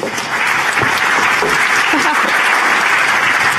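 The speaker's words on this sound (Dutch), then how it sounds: "Mag ik een hartelijk applaus voor Shania Usdemeer." An audience at a free-speech festival evening applauds warmly for a guest, a sustained dense wash of clapping with a voice briefly audible over it.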